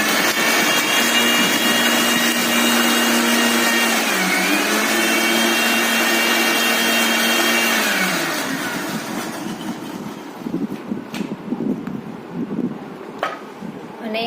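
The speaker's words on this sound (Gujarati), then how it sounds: "હવે આપણે એને મિક્સરમાં ચર્ન કરી દઈશું." A mixer grinder churns a cooked plum and sugar mixture into puree for aloo bukhara shikanji, a loud steady motor whine for about eight seconds, then it winds down and stops, leaving a few faint clicks and knocks.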